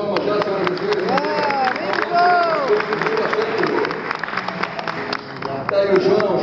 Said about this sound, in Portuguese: uma salva de palmas já, senhoras e senhores